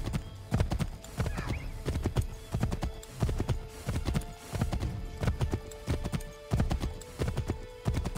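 A horse's hooves clip-clop in a steady, rhythmic trot in Assassin's Creed 3, loud and close throughout, with an occasional whinny mixed in.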